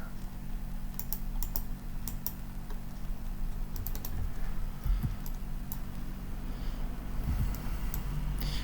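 Keystrokes on a computer keyboard while working in a spreadsheet, steady scattered clicks with occasional faster bursts, close and clear over a low background hum, no talking.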